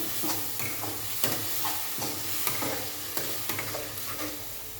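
Chickpeas tossed with chana masala spices sizzle and fry in a pan, with steady stirring scrapes and clicks repeating throughout over a constant hiss, close and moderately loud.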